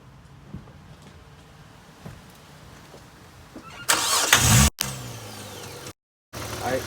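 A Hyundai Tiburon with a vacuum leak is restarted after stalling: the starter cranks briefly, then the engine fires into a loud, rough idle that cuts out for a moment before catching again, with a steady low rumble underneath.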